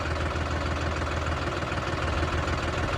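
A tractor engine runs steadily in a ploughed paddy field, a constant loud low rumble with knocking texture and no change in pace, close by and without talk.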